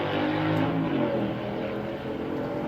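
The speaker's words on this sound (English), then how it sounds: "Wow, what a rude motorcycle." A loud motorcycle roars past nearby, its engine drone swelling and then slowly fading over a few seconds, with no talk.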